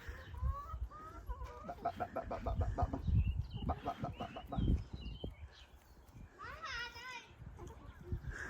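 Chickens cluck in repeated short bursts close by, with voices talking in the background.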